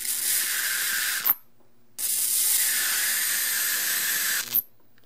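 A high-voltage arc from a homemade flyback transformer melting screwdrivers hisses and sizzles loudly in two long bursts, each ending with a sharp crackle before a sudden silence.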